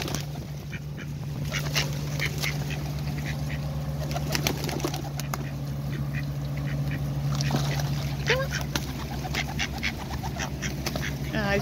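Wild ducks quacking repeatedly among a busy outdoor crowd of birds including pigeons, near water, with a steady low engine hum and some wing flapping in the background.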